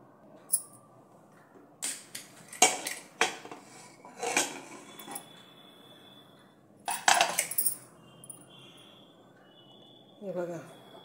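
Metal pots and utensils clank in a home kitchen as a pressure cooker of dhaba-style mixed dal and vegetable masala khichdi is opened, with scattered sharp clinks and knocks in bursts, close by, and a voice speaking at the end.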